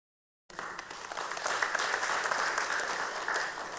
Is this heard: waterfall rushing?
no